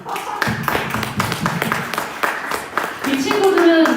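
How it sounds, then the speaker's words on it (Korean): A church congregation at a young adults' Sunday worship service breaks into brief, scattered applause: a few seconds of crisp individual claps rising and fading, with a voice talking over them. "첫날에만 박수 한번 주시죠"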